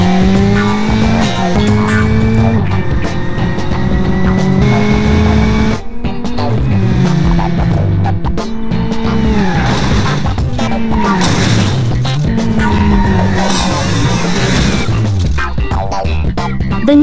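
A police sport car in BeamNG.drive revs hard and slams into a bollard, its steady engine drone broken by loud impact crashes and scraping, with further smashing and tire noise through the latter half.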